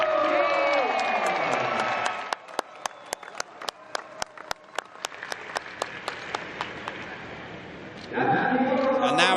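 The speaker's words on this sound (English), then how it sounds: "Listen for this cheer. The Thai crowd sees the home winner again." A Thai crowd at the Chang International Circuit cheers for a home winner at a motorcycle race. The cheering swells loudly at the start and again near the end, with sharp clicks and quieter background noise in between.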